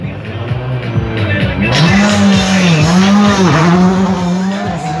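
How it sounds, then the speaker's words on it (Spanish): An R5 or WRC2-class rally car launches from the start ramp, its engine revving hard and climbing through the gears as it pulls away, loud and close, with a rising, wavering engine whine. "se va otro auto de la configuración R5 o World Rally 2"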